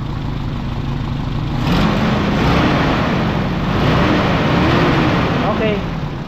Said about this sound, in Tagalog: Sige sir, i-rev nyo nga po.